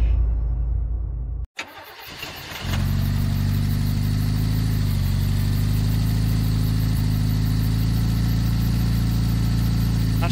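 A car engine in an arcade-style driving video game cuts out briefly, then starts and settles into a loud steady hum with a constant drone underneath.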